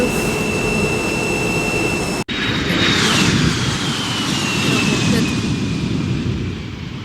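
A jet airliner's engines roar loudly and steadily as a broadband rumble, broken by one sharp cut near the start before the drone resumes and slowly eases at the end.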